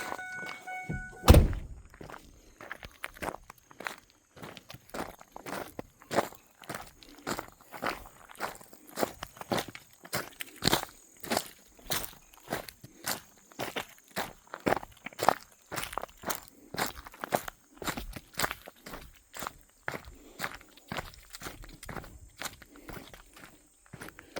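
Footsteps crunch along a gravel road leading out to campgrounds in a steady walking rhythm that lasts throughout, close and clear, with no talking.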